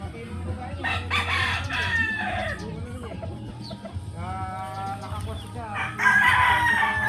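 Fighting cocks of a fine gamefowl breed crow repeatedly with drawn-out calls and cluck in between, loud and close, over a steady low background hum.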